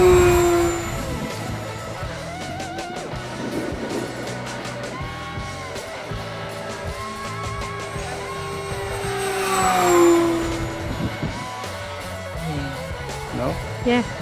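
A small E-flite 1.5m M7 Maule radio-controlled model airplane comes in to land, its electric motor whining steadily at moderate distance with a brief rise in pitch and loudness partway through, while wind and outdoor ambience fill the background.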